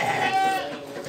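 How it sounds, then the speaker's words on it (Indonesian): A Jawa Randu goat lets out a single clear, nasal bleat close by that wavers for about half a second, then fades into quiet farmyard background. "Hari ini dapat kambing-kambing jenis Jawa Randu"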